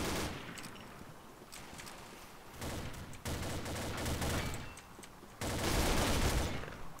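Dense bursts of rapid gunfire from the online shooter Combat Arms rattle loudly and continuously, swelling in two heavier volleys over a steady background roar, with no talk.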